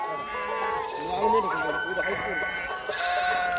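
Sheep bleat repeatedly amid a noisy outdoor scene, with people talking over the calls, at a morning flock camp in Jadhavwadi, Pune district.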